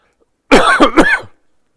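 A single burst of coughing, two or three quick hacks close together, loud and near, with silence before and after.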